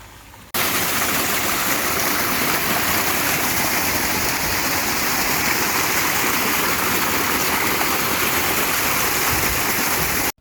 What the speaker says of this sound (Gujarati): અહીંયા આપણા કૂવેથી આવે છે પાણી